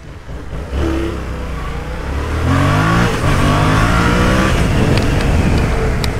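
A Yamaha MT-07 motorcycle engine revs loudly up close, its pitch climbing steadily as the throttle opens and then holding at a high, roaring whine.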